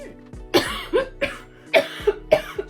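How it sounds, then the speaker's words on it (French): A series of harsh coughs from a woman, about six or seven in quick succession, loud and close, with wheezy, choking breaths between them. "Dès que je tousse un peu, je m'étouffe à en pleurer."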